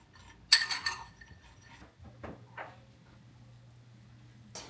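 A spoon clinks against a bowl as pecans are stirred with brown sugar and cinnamon, with a sharp cluster of clinks near the start and a few lighter taps following.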